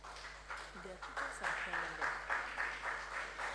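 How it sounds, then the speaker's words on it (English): An audience at a school science and maths quiz contest claps in a loose, moderate patter, with a voice speaking over the applause throughout. "If we are clapping, let's do it better."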